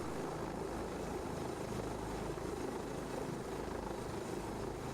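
Lynx AH7 helicopter in the FlightGear flight simulator, flying over the sea, gives a steady, loud, continuous rotor and engine roar with no breaks and no talking.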